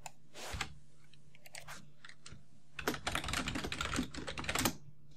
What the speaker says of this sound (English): Got a new keyboard.